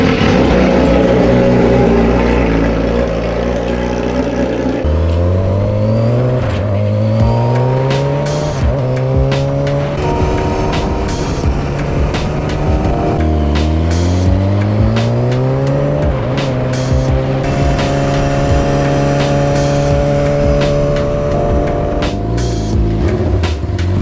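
A street motorcycle is ridden hard, its engine revving loudly and climbing repeatedly through the gears with rising and falling pitch sweeps, close and dominant throughout with no talk.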